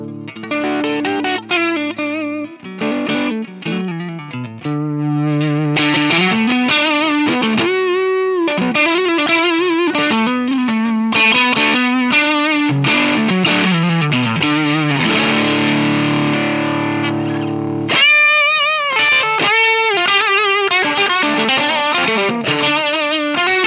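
An electric guitar plays through a BOSS BD-2 Blues Driver overdrive pedal, giving a continuous gritty, distorted tone. Riffs and sustained chords run for over twenty seconds, loud and close, with no talking.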